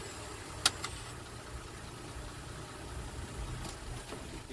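A Toyota Tacoma TRD idles and creeps in loose sand on crawl control, a low, steady, fairly quiet engine rumble with a couple of sharp clicks near the start, no talk.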